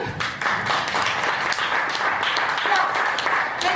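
A crowd claps at a live Catalan political theatre game-show sketch about pensions and public services, with sustained, even applause throughout and some speech mixed in.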